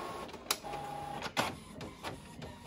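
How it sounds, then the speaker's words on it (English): Home printer feeding and printing a sheet of sticker paper, with mechanical whirs, clicks and carriage movements in short bursts, fairly close and alone without talk. "Now I'm comfortable with printing on my sticker paper."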